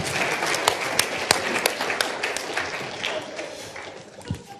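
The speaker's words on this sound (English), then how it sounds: "let's just clap for you and let you go" An audience claps after a panel discussion, a brief scattered round of applause with sharp individual claps that thins out toward the end.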